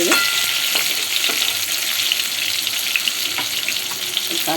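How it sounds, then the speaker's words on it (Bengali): Eggplant pieces frying in hot oil with black cumin seeds, a steady loud sizzle throughout with occasional scraping stir sounds from a spatula, no voices. "কালো জিরাটা দিয়ে এবার আমি বেগুনটাকে আরেকটু নাড়াচাড়া করে দিচ্ছি"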